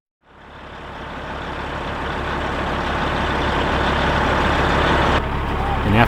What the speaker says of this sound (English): they attempted to move the truck into position and quickly broke through the ice